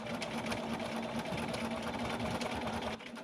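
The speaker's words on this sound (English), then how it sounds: "Start stitching" A sewing machine stitches quilted fabric for a gift bag in a steady, fast, continuous whir that runs close and loud, briefly easing off just before the end, with no voices.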